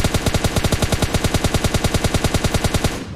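Rapid automatic gunfire from a weapon in the battle royale game PUBG Lite, a steady rattle of roughly twenty shots in three seconds, loud and close, with no talking.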